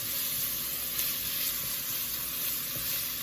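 Onions sizzle steadily in a pot over lowered heat while cooking down for a Cuban oxtail stew, a continuous close frying hiss with faint stirring and no talk.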